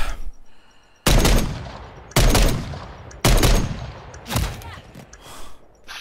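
Heavy gunfire in a Trick 'r Treat Sam video game match, with three loud, abrupt bursts about a second apart followed by a weaker fourth, each ringing off in a long decaying tail.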